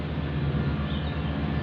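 A tractor approaches, heard as a continuous low engine hum with steady harmonic rumble at moderate loudness, alone without speech.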